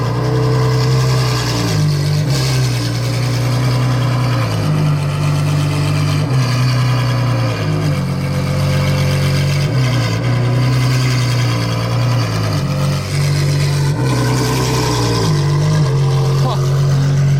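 A Ferrari Daytona SP3 V12 with its exhaust valves open idles loud and close in a steady, deep burble, with brief throttle blips rising and settling every few seconds.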